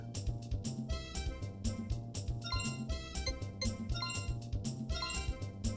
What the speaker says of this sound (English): Equip the bell and press the B button. Cows will come to you.